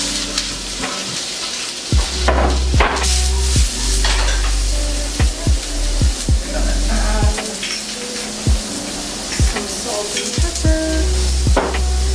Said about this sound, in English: going to chop up some zucchini. And we're going to throw it in the pan.